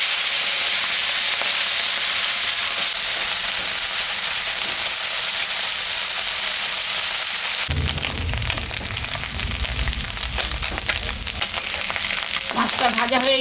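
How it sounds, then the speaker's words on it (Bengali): Chapila fish sizzles and crackles loudly in hot oil in a wok, a steady hiss that turns into a denser, bubbling roar once the fish goes in, continuing without talk. "তেল গরম হয়ে গেছে, আমি এখন মাছটা ছাড়বো।"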